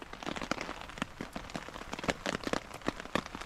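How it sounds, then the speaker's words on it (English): Heavy rain falls on a forest camp under a beech canopy, with a dense patter of thick drops tapping nearby surfaces at a soft, steady level. "The rain's coming down pretty heavy right now."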